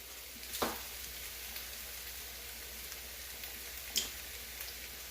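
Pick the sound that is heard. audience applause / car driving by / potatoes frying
potatoes frying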